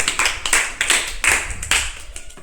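Children in a classroom clap together in several quick bursts, bright and close, with short pauses between the rounds.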